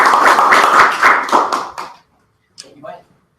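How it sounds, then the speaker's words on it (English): A short round of applause at the end of a public speaking club meeting, a dense burst of hand clapping from a small group that fades out after about two seconds, followed by a brief spoken remark. "That applause is supposed to be for you, man."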